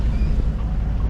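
A sailboat motors under engine power in light wind, with a continuous low engine rumble and water and wind noise close around.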